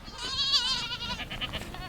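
Goats bleat in wavering, nasal cries, one loud close call followed by shorter bleats, with some background noise.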